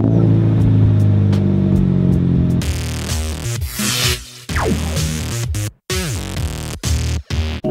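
A Subaru BRZ engine runs with a steady drone, then revs unevenly and sputters, cutting out briefly several times in choppy bursts.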